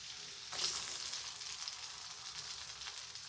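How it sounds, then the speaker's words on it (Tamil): Small onions dropped into boiling oil for a squid curry, setting off a steady, soft sizzle that stays even throughout, with no talking. "இப்போ நல்லா எண்ணெய் கொதிச்சுக்குது. இப்போ நாங்கள் வெங்காயம் சேர்ப்போம்."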